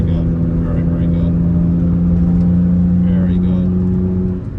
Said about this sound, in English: really, really nice exhaust note